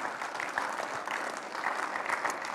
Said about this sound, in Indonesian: Tepukan kemuliaan bagi Tuhan kita Yesus.